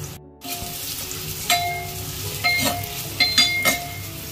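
Onions drop into hot oil with turmeric and salt for a paya salan, sizzling loudly and steadily right after a brief silence, with stirring scrapes and clinks breaking through the frying.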